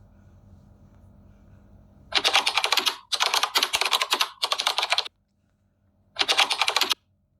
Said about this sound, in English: You can increase the speed of the typing.